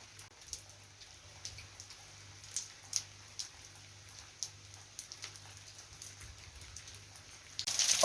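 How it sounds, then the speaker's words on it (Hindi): Light rain at the onset of a monsoon shower in the hills of Haldwani, falling as scattered faint drops and soft patter over a quiet, low hum. "तो भाई क्या मस्त बारिश आ रही है यार"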